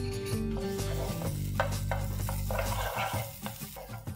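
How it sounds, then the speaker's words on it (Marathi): Garlic and red chili paste hit hot oil with a touch of butter, giving a dense continuous sizzle with scraping and stirring clinks from a utensil in the pan, no voice present. "आपण हे लसूण आणि लाल मिरचीची पेस्ट आहे ती टाकून घेणार आहोत"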